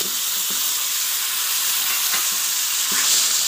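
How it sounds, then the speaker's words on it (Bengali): Boiled lentils going into a hot pan with turmeric and salt, a steady close sizzle and hiss with a few soft stirring knocks. "আর এই যে এবার ডালটা দিয়ে দিচ্ছি।"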